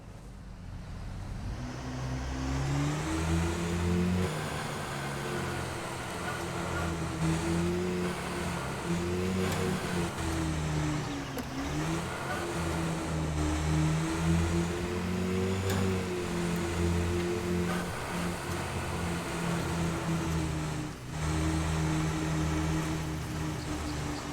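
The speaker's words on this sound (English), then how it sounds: "It sounds like we left it running." A jeep engine idles and revs steadily in the video game The Angler, a loud continuous motor drone with slight rises in pitch throughout.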